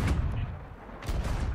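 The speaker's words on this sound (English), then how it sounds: "Oh, a cannon hit." A cannonball hit in the pirate ship battle game Sea of Thieves lands as a heavy booming impact with rumbling, crackling debris, followed by a second blast about a second later.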